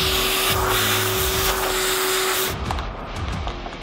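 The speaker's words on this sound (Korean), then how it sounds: "스팀기로 우선 묵은 때를 불린 후 청소기 작업을 진행하는데 특히 베란다 쪽은 조금 더 공을 들여 청소를 합니다." Vacuum cleaner working over a balcony floor during a spring cleaning job, a loud steady whooshing roar with a motor hum that cuts off sharply partway, leaving scraping and rustling cleanup noise.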